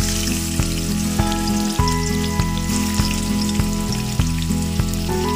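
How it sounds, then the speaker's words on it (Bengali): Shrimp fry in hot oil in a wok, giving a loud, steady sizzle throughout with regular sharp pops and crackles and no voices. "কড়াইতে তেল গরম করতে দিয়ে দিয়েছি। এবার আমি চিংড়ি মাছটা ভেজে নেব।"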